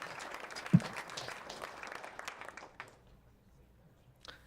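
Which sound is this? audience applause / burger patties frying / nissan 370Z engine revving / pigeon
audience applause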